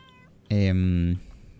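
A cat in the Layers of Fear video game lets out one loud, drawn-out meow of about 0.7 seconds, close and clear against a quiet background.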